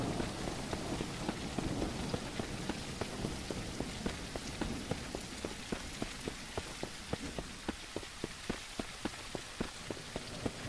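Steady rain pattering on a surface in the video game Mist Survival, with a dense wash of drops and a regular series of sharper ticks, no voices.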